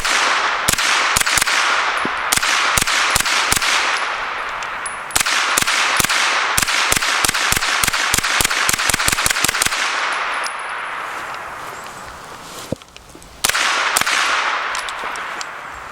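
Rapid strings of suppressed SIG MPX gunshots fired outdoors through a HUXWRX Flow 9K suppressor on an 8-inch barrel, loud sharp cracks in fast bursts and single shots with short pauses between strings, no talking.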